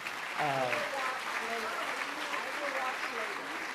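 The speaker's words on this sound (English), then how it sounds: "please a grand applause for Secretary Melissa." A ceremony crowd applauding a government secretary, a steady bed of clapping throughout while a voice speaks over it near the start and intermittently later.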